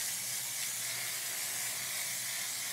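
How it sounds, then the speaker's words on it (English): Hairspray sprayed onto a long lace-front wig during styling, a continuous soft, airy hiss that holds steady for nearly three seconds at close range with no talking. "Now you can use some hairspray."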